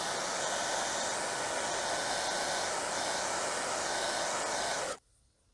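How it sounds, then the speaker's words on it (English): A handheld hair dryer blowing steadily to dry a layer of paint on a model base, a close, even whooshing roar that runs for about five seconds and then switches off into quiet. "I can take my handy dandy hair dryer,"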